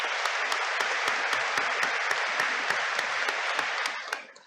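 Graduation commencement audience applauding, a dense steady patter of many hands with a few sharper nearby claps, fading out at the end.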